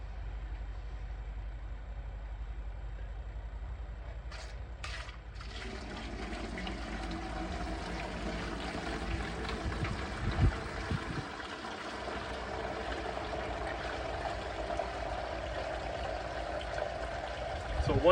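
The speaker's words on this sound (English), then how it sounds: "The water just pours straight through this stuff." Eighteen liters of water poured onto Romex resin surfacing during an infiltration test, a steady close rush and splash that runs continuously and builds slightly toward the end.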